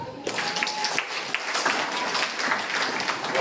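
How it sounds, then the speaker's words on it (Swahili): A church congregation claps together in a steady, dense wash of applause that runs throughout, fairly loud and close, with a hint of voices mixed in. "Pigie Yesu makofi."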